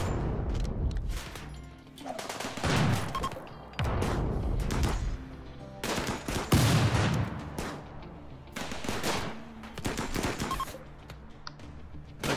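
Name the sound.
gunfire in the video game RimWorld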